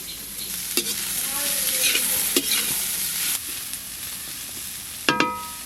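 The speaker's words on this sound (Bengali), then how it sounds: "সবজিগুলো হালকা করে ভাজা হয়ে গেছে" Vegetables stir-frying for egg chicken chowmein over a clay stove: a continuous close sizzle broken by several sharp spatula scrapes and metallic clanks against the pan, the last ones ringing briefly.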